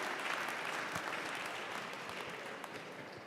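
A crowd at an evening gala applauds Junior League members, a thick continuous round of clapping heard from a moderate distance that tapers slightly toward the end.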